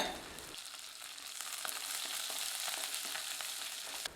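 Chopped shallots sizzle and crackle in hot oil, a loud steady frying hiss with occasional stirring clicks, close up and without talk.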